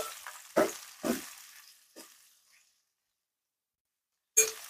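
Bitter gourd pieces frying in a pan, a few sharp bursts of sizzling and stirring that fade out, then quiet before one final brief crackle.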